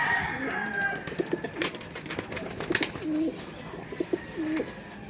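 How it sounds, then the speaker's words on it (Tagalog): Pet racing pigeons coo in a loft, several soft repeated throaty coos close by, spaced irregularly against a light background hiss, with no talking. "Yan yung updated sa mga bago natin alagang kalapate, mga nakuha natin bago."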